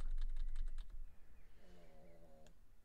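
Rapid keystrokes clack on a computer keyboard used for coding on a Nintendo Switch, a quick burst of typing followed by a faint tonal hum, recorded close and quiet.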